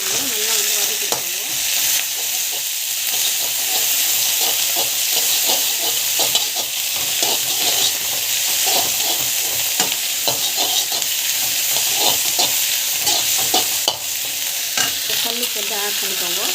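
Spices, onion, garlic and dried curry leaves sizzle and fry in a pan, with steady loud hissing and frequent scraping stirs throughout, and no talking.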